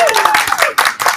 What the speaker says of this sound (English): Here, everybody applaud.